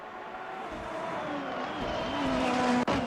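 A brief, loud stretch of race car engines whining around the Autopolis circuit in the Formula Hololive racing game, the pitch climbing as a car accelerates and passes close, with a slight tire squeal.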